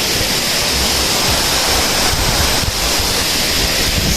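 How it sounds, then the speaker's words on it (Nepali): Budar waterfall in Doti district, Nepal, a powerful, steady roar of rushing water, loud and close, filling the whole span with broadband noise and no voices. "एकदम खतरनाक पानी आइरहेछ"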